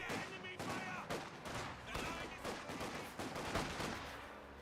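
Rapid bursts of gunfire crackle through a Company of Heroes 2 battle as a sniper targets conscripts, dense and repeated over a few seconds, fairly faint in the mix.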